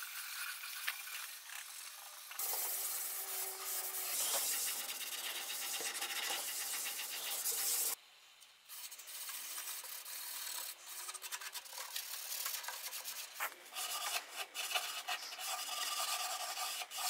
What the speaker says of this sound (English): take one of these Scotch-Brite pads and add the oil, and you're good to start rubbing it into the wood